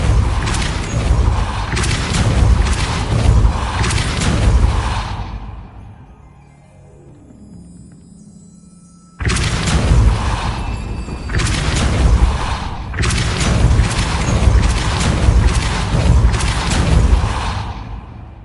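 Depulso and Wingardium Leviosa spells being cast over and over in the video game Hogwarts Legacy: dense loud rumbling blasts and whooshes, a quieter stretch midway with a falling tone, then heavy bursts again, close and with no talking.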